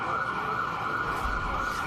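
Emergency sirens wail near a New York courthouse where surrounding streets are shut down, a steady, fairly close tone with a low rumble of traffic beneath.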